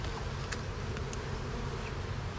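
Honey bees buzz steadily around a hive, a dense continuous drone close by, with a few louder individual passes near the listener.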